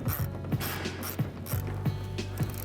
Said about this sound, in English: using a 10mm socket, I'm going to release the